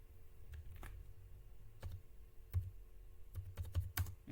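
Typing on a computer keyboard while writing Python code, with scattered quiet keystroke clicks at close range, irregular and sparse, bunching into a quicker burst near the end over a low hum.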